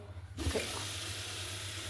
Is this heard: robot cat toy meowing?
no